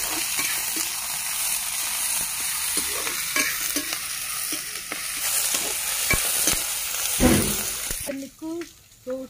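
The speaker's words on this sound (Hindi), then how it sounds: "प्याज को डाल देते हैं। अच्छे से गोल्डन ब्राउन होने तक भूनेंगे।" Chopped onions frying in hot oil with whole spices in a village home kitchen, a steady sizzle with stirring scrapes, loud and close throughout; a person talks briefly near the end.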